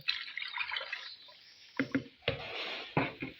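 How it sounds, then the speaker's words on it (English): One liter of palm oil pours into a mixing bowl for bar soap making, a soft liquid stream with a few quiet splashy glugs, close and alone. "Then I'll pour my 1 liter of oil."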